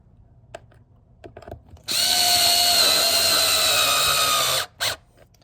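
A power tool tightening air cleaner box fasteners on a 2019 Chevrolet Silverado, preceded by a few light clicks and handling noises, then one loud, close, steady high-pitched whir for about three seconds, stopping with a brief final burst.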